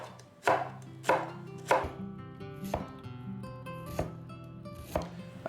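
A knife chops through an onion on a cutting board in about nine sharp, evenly spaced strikes, close and clear with no talking.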